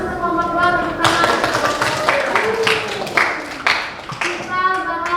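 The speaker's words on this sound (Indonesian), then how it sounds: "Terima kasih untuk kelompok 2 tepuk tangan." Classroom clapping for a student group, a burst of hand claps from a room of students mixed with children's voices and talk, rising after the opening speech and fading back into talking near the end.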